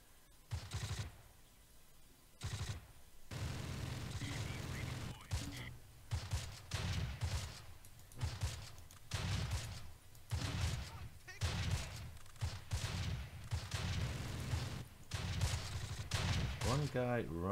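Gunfire in the Close Combat: The Longest Day war strategy game, bursts of rifle and machine-gun fire with booms in quick irregular volleys, fairly faint, while someone talks over it.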